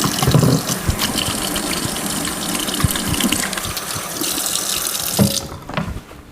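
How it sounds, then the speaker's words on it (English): A kitchen tap runs steadily while hands are washed beneath it, with a loud, continuous splashing gush, then the flow is shut off near the end. "Then I'm gonna wash my hands again."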